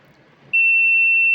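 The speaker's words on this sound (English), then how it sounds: "And there will be a continuous buzzer" A water leakage alarm sounds a loud, continuous electronic buzzer tone that starts abruptly after a quiet moment and holds steady without pause.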